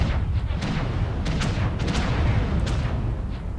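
Ultra AC5 autocannons group-firing in MechWarrior Online, giving a dense, steady run of heavy booming shots. Sharp cracks land over a continuous low rumble of battle.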